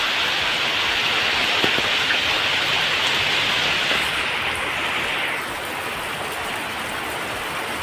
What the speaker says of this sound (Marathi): किती जोरदार पाऊस पडत सारखा